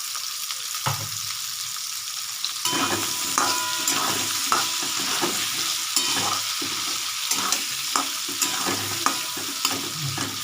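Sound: potato and onion being stir-fried in fish oil

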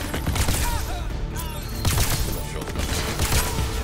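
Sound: pulse rifle gunfire in video game Crackdown 3

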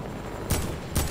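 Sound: gunfire from the video game Fortnite

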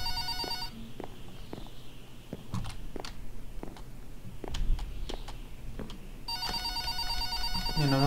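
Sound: telephone ringing in the video game Minecraft

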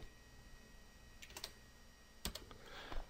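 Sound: typing code on a computer keyboard

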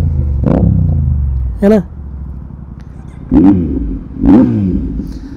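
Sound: superbike engine revving

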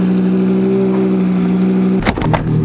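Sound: Lamborghini Gallardo 5.2 litre V10 engine running

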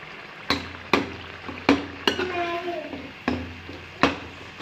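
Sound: chicken frying in spiced masala

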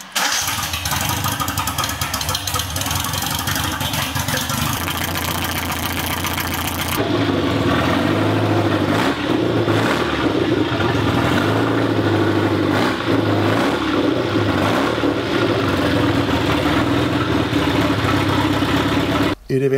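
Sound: 1974 Series 105 engine starting and idling

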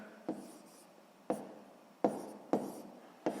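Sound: writing a math solution

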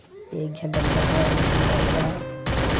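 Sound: gunfire in the video game Free Fire

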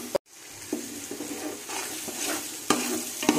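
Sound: stirring and frying mint paste for chicken biryani

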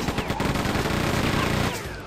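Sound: chain gun firing in the video game Quake 2

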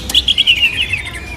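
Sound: green leafbird (cucak hijau) chirping at a bird market kiosk

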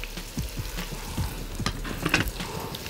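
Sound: vegetables and onion being stirred and fried in a pan

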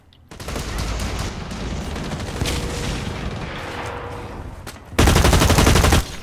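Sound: gunfire in video game Blacklight Retribution

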